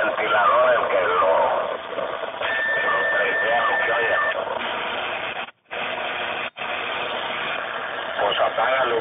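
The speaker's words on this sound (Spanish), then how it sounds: "Es el ruido del ventilador" A steady hiss and hum from a cooling fan sits under a band-limited AM CB radio transmission on channel 20, running throughout with brief dropouts as voices talk over it.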